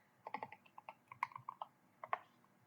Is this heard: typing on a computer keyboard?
yes